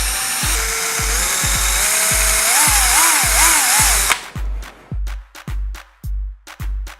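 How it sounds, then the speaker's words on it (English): A power drill bores a hole in a door chime, its motor whining steadily and then wavering in pitch. Several sharp, separate clicks and knocks follow once the drilling stops. "you will need to drill a hole for the wires to come through."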